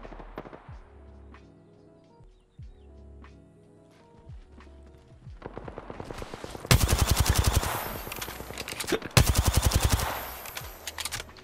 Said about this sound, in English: Walk away, Zed, keep shooting, throw it in there if you have it